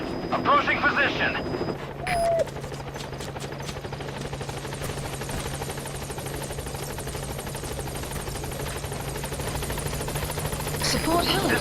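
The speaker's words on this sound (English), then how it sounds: "Support helicopter requested." The Pequod support helicopter arriving in Metal Gear Solid V, a steady loud rotor drone with a low hum running continuously through the scene, while a voice speaks briefly near the start.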